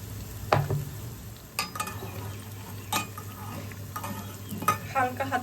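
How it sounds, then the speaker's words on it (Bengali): Urad dal vadas fry in hot oil in a wok, a constant sizzle broken by several sharp clinks and scrapes of a utensil against the pan. "এখানে বিউলির ডালের দই বড়া ভেজে নিচ্ছি"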